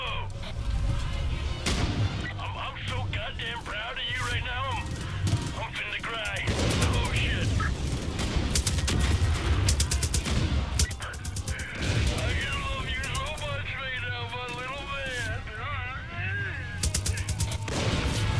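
Minigun and other gunfire in Far Cry New Dawn, dense bursts of rapid shots and crashes running throughout, loud and continuous, with people talking over the chaos.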